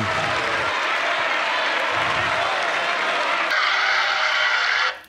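Applause fills the space at a French political gathering, dense and continuous, with a brief change in tone near the end before it fades out.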